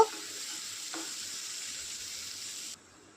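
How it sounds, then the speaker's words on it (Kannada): Chopped cabbage fries in a pan with a steady broadband sizzle that holds for almost three seconds, broken by a couple of brief stirring scrapes near the start, then cuts off abruptly to quiet. "ಕ್ಯಾಬೇಜನ್ನು 1 ನಿಮಿಷ ಇದನ್ನು ಫ್ರೈ ಮಾಡಿಕೊಳ್ಳಬೇಕು"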